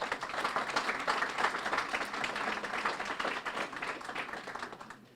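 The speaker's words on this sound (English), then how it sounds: "Let's clap for the coaches quickly" A crowd at a high school signing ceremony claps for the coaches, a dense, fairly distant patter of many hands that holds steady for several seconds and then tapers off.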